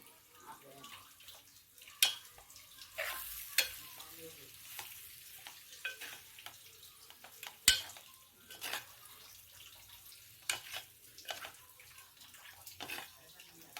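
Poha is stirred and mixed with green chutney in a pan, giving soft scraping and shuffling with a few sharper knocks of the spoon, fairly quiet and close.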